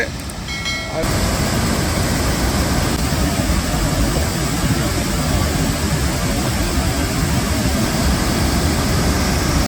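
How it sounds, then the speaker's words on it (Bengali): Water released from Getalsud Dam near Ranchi roars as a steady, loud, broadband rush, continuous throughout after a brief quieter start. "এই হচ্ছে গীতালসুদ ড্যাম যেখান থেকে জল ছাড়া হয়েছে"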